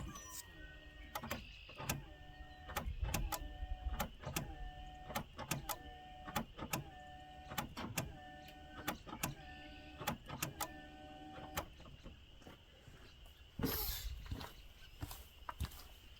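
A car's fuel pump primes as the ignition key is cycled several times at a junkyard, giving repeated faint buzzing whirs broken by sharp clicks, with brief quiet gaps between cycles.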